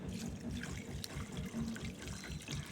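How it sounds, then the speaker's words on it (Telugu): Water runs and trickles steadily through a home vegetable garden planted with gongura and red amaranth. The flow is quiet and continuous, with no voices. "నీళ్ళు పోతుందండి,"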